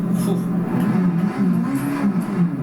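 Porsche 919 Hybrid race car engine in the game Assetto Corsa, a steady droning, buzzing engine note that holds loud and continuous throughout, with voices talking over it.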